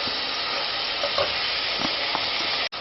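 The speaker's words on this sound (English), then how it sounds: "Now I'm adding the tomato paste to it, and I'll mix it." Peas and tomato paste sizzle loudly and steadily in a pot, with a few soft scraping stirs from a utensil running through the hiss and a brief cut near the end.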